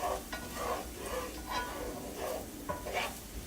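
Onions cooking in a pan for Puerto Rican empanada filling, a steady close sizzle broken by repeated soft scraping and stirring strokes, with no voices.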